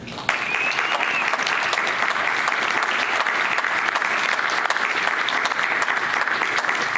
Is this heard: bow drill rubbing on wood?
no